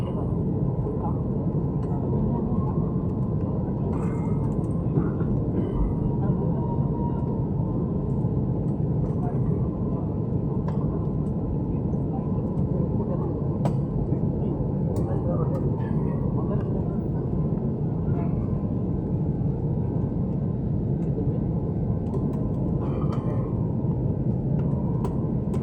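A passenger aeroplane takes off from an airport near Guwahati, a long steady roaring rumble of jet engines sustained throughout, loud and continuous with faint announcements in the background.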